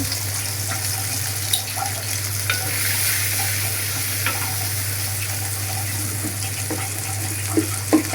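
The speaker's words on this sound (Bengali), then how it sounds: "আদা রসুন পেস্ট মশলাটা ভালো করে আমি কষাই" Ginger garlic paste masala with turmeric, coriander and cumin powder is stir-fried in a pan for a fish curry, giving a steady sizzle with occasional spoon scrapes. A constant low hum sits underneath, and no voices are heard.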